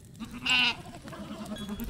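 A single short goat bleat rings out amid a quiet barn-like background as a horror story sound effect, fairly close and brief, followed by faint low rustling.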